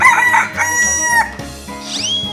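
A rooster in a 3D animal slide game crows loudly in a drawn-out call with a falling tail, followed by a short rising synthetic tone.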